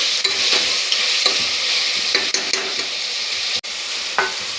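Onion and tomato frying in oil for a matar pulao, a steady bright sizzle with periodic scraping stirs of a spoon against the pan and one sharp clunk near the end, no voices.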